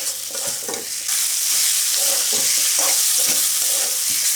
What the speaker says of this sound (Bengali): মাংসগুলো দিয়ে মশলার সঙ্গে খুব ভালোভাবে আমি মিশিয়ে নেব।